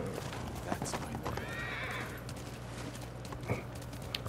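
A horse in Ghost of Tsushima lets out a clear whinny midway, loud and near, over steady in-game ambience with faint hoof sounds and brief clanks.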